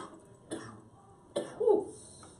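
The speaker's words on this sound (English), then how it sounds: "Ooh, I got a little cough." A person gives a few short, close coughs with quiet gaps between them, and the last cough is the loudest.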